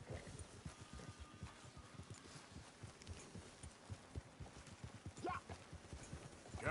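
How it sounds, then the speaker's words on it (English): A horse's hooves clip-clop in a video game at a steady, quick trotting rhythm, fairly soft and continuous, with faint ambient outdoor sound beneath. "Qué bonito es el caballo de Duch, ¿no?"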